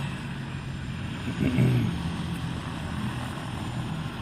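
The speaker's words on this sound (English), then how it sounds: "I believe they will power down the rear rotator. They may power everything down." An East Care medical helicopter sits on the ground after landing near a fire engine and ambulance, its rotor and engine giving a steady, moderately loud droning whir that swells briefly, with no talking.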